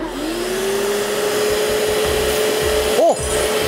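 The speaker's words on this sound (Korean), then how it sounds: "돌아, 요란하게 돌아가. 소음이 엄청 크네요." A spot-cleaning wet carpet cleaner runs loudly and steadily, a close, constant motor roar with a rising whine as it spins up, alone without talk.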